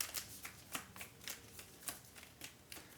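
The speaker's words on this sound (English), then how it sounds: "I have to shuffle my deck for this draw." Sleeved cards from the Slay the Spire board game being shuffled by hand, a quiet, close run of quick riffling bursts in an uneven rhythm.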